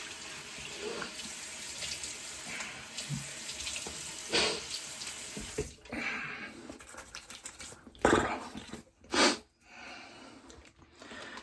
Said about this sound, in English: I need to wet my face real quick.